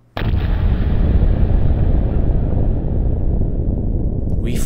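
A sudden loud blast in a Minecraft roleplay set in a fallen world opens with a sharp onset and rolls into a sustained heavy rumble that lingers for several seconds.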